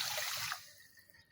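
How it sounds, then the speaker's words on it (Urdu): About a cup of water poured into a wok holding sugar, a brief splashing pour that fills the first half-second and then fades to a quiet trickle, with no talk. "1 کپ ہم اس میں پانی ڈال دیں گے۔"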